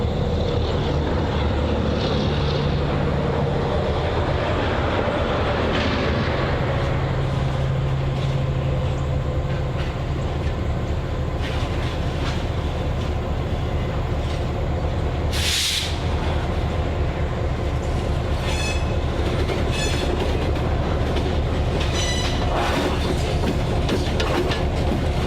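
A train rolls slowly past near a railroad crossing, a loud, continuous rumble with clickety-clack of wheels on rails for about 25 seconds and a brief sharp hiss partway through, no talking.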